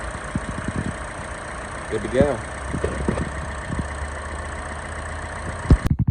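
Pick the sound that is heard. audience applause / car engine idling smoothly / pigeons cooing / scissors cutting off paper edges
car engine idling smoothly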